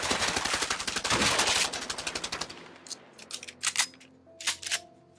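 Rapid automatic gunfire in the video game A Way Out, a dense, loud burst of shots for about two and a half seconds, followed by scattered sharper single shots and clicks with faint tonal game sounds.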